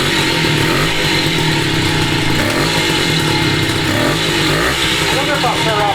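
A 1969 Morini 50cc two-stroke Italian mini bike engine runs close by with a loud, continuous buzzing drone and slight shifts in pitch, with people talking over it.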